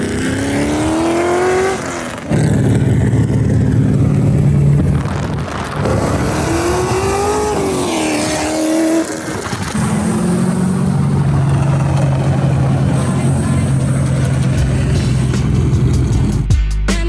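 A loud car engine revs repeatedly outside, rising and falling in pitch, with steady idling rumble between bursts of acceleration.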